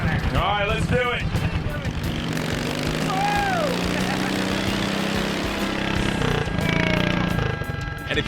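A ride-on lawnmower in second gear hauls a weight sled down the track at a tractor pull, its engine droning loud and steady up close throughout, with faint whistle-like chirps over the roar.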